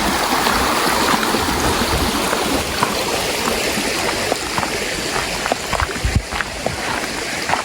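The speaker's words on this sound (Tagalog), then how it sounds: "Ito yung tubig." A mountain stream on a hike, water rushing and gurgling loudly and continuously close by, with small splashes and bubbling throughout.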